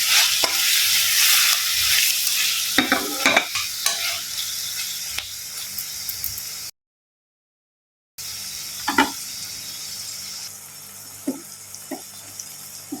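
Oil sizzling in a pan of frying drumsticks and methi leaves, a loud steady hiss with clattering stirs early on, then a brief gap before quieter sizzling with occasional knocks, no voices.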